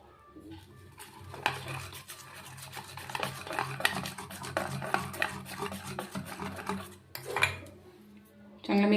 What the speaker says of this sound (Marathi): पाणी टाकून चांगलं मिक्स करून घ्यायचं